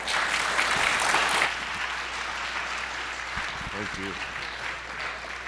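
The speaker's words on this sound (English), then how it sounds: "Please give them a round of applause." An audience at a mining industry forum claps loudly for a panel for about a second and a half. The applause then fades under a nearby voice speaking briefly over quieter room noise.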